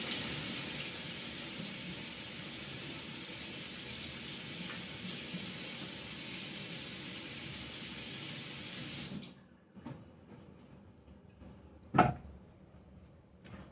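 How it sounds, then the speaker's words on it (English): A beet washed under a kitchen sink tap: a steady rush of running water for several seconds, then the flow stops, leaving quiet handling knocks and one sharp clunk. "I'm going to wash that in the sink and scrub it real good"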